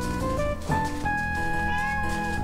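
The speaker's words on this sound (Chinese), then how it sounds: "对，猫咪" A house cat meows close up in a few drawn-out, tonal calls that run together, loud and clear with no talking over them.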